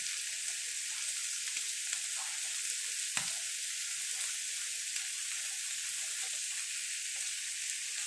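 Quail meat frying in hot oil with curry leaves, a steady close hiss of sizzling with a few faint stirring clicks and one sharp knock, no voices.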